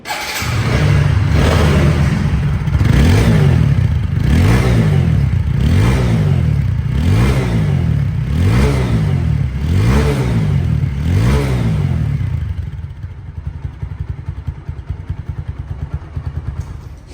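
A used motorcycle engine runs close by, its exhaust rising and falling in a steady series of about eight revs, each swelling and easing back, before dropping to a rough idle for the last few seconds.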